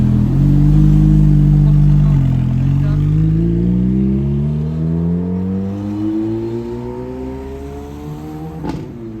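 A Ferrari engine drones loudly nearby during carspotting, its pitch rising smoothly and steadily as the car pulls away. A brief sharp knock comes near the end, and voices can be heard under the engine.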